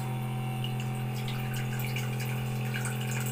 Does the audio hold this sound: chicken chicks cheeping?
no